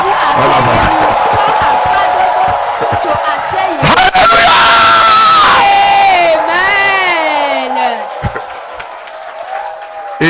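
A church congregation of worshippers shouting and crying out for joy in loud, overlapping crowd yells and whoops, with clapping hard to pick out, sustained for several seconds before easing off.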